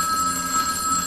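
An office telephone rings with a steady electronic trill, close and clear, with no talk.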